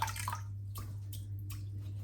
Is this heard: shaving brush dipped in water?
yes